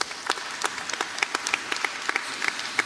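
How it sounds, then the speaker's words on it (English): Audience applause fills a plenary session of the Youth4Peace 5th WFID forum: dense, sustained clapping from many hands with sharper individual claps popping out, steady and fairly close throughout. "We applaud them for this fantastic experience."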